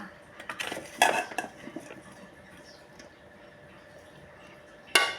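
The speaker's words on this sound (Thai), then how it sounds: "แล้วก็มันฝรั่งใส่ไปก่อนนะคะ" Potatoes drop into a pot while chicken soup is being made, giving a few sharp clattering knocks near the start, a quieter stretch of faint rustling, then one more loud clack at the end.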